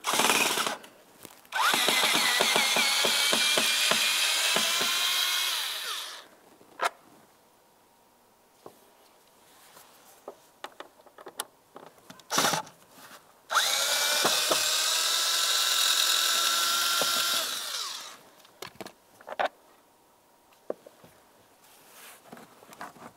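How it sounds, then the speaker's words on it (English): Cordless screwdriver whirring in two long bursts as Phillips head screws come out of a trim panel on a 2010-2013 Ford Transit Connect, with clicks and handling noises between runs, close and fairly loud. "To remove the trim panel, you'll find two Phillips head screws holding it in place."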